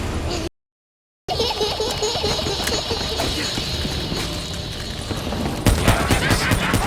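Rapid automatic gunfire from Call of Duty: Black Ops 3, dense rattling bursts running continuously after a brief dropout, loud and close, with a voice and laughter-like chatter mixed in.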